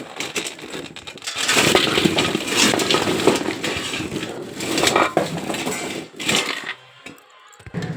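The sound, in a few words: transferring snacks into steel bowls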